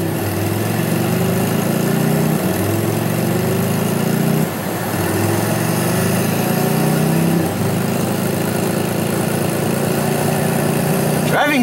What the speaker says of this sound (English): Driving fast with this motorcycle.